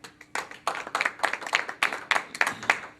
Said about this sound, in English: let's applaud our good luck to be here tonight